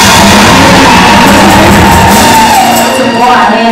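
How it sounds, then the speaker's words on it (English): Wedding guests cheer and shout for the Lord in a loud, continuous crowd roar during a wedding ceremony, voices whooping together close by; clapping is hard to pick out under the cheering. "Let's clap for the Lord."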